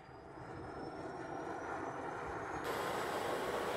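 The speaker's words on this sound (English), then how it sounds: "They're going to start up right now. They're going off to do a call." An air ambulance helicopter starting up for take-off, a steady broadband whine and whoosh of spinning rotors and turbine that grows slightly louder and fuller partway through, heard alone with no talk.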